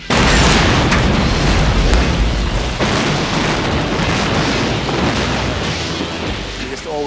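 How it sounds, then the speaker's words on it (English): A loud, sustained rumbling roar from a building demolition explosion fills the air, broadband and heavy, slowly fading while distant voices murmur underneath. "it's a very loud explosion"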